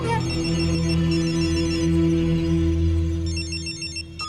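A telephone rings in a tense movie scene, a repeating electronic bell pattern at moderate loudness over a steady low background hum, with the ringing pulses clearest near the start and again toward the end.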